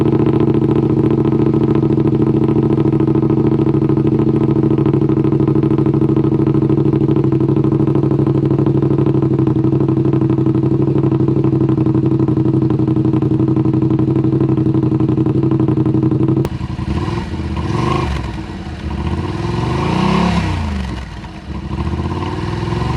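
A Yamaha RMAX 1000 side-by-side fitted with an RPM Performance muffler drones at a steady high idle, loud and close, then drops into rougher, uneven revving with clattering pulses toward the end.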